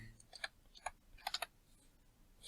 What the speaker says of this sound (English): Sorry, excuse my typing.